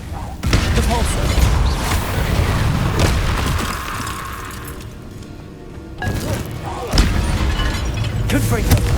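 Spell impacts from the Repulsor charm in Hogwarts Legacy, a series of loud, close booming thumps with bursts around the first and seventh seconds, set against game music and combat effects.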